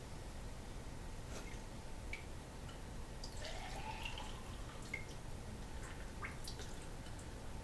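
Homemade wine poured into a sterilized glass, a soft, faint liquid trickle and dripping with a brief rising gurgle as the glass fills, set against steady background hiss.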